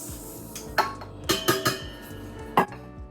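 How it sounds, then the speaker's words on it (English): Butter and sugar being creamed in a bowl for a lemon sour cream pound cake, with sharp clinks and clatters of a utensil striking the bowl at irregular intervals, fairly close. "first I'm going to cream the butter and sugar"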